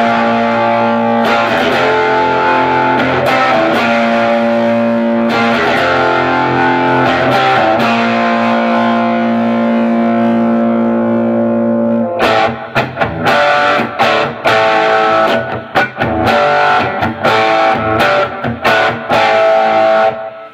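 Electric guitar played through a BJFE Emerald Green Distortion Machine pedal and Fender Blues Junior amp, heavy distortion, sustained chords ringing out first, then choppy, rhythmic palm-muted strumming, loud and close.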